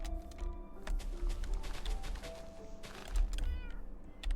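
Cats meowing in the Minecraft video game, several short meows in quick succession over faint background game sounds.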